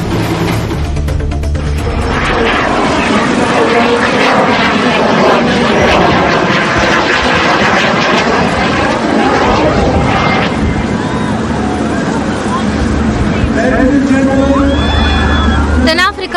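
A fixed-wing aircraft at an air show in Saldanha, South Africa drones loudly and steadily overhead, a continuous engine roar with a faint crowd murmur beneath.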